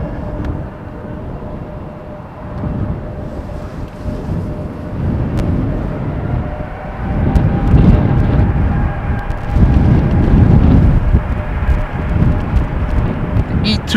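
An Embraer E2 jet at Amsterdam Schiphol Airport gives a steady outdoor engine roar that swells louder in the second half, with a faint whine above the broad rumble.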